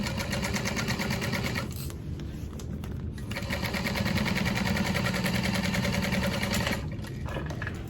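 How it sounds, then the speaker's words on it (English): A sewing machine top-stitching holographic vinyl on a purse, running in a fast, even mechanical rattle close by, with two brief pauses where the motor stops before it starts up again, no talking. "I'll top stitch it down"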